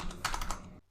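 Brief run of a few close, soft keystrokes on a computer keyboard, tapped in a quick cluster before falling quiet.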